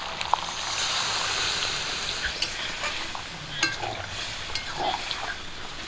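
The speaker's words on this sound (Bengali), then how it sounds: "মাংসটা আর ভাজা ভাজা হয়ে গেছে আর এদিকে দেখুন মাংস দিয়ে তেল বেরোচ্ছে" Chicken pieces frying in oil with ginger, cumin and garlic paste, a steady close sizzle with occasional stirring scrapes and small pops throughout.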